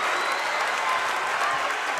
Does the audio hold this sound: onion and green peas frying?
no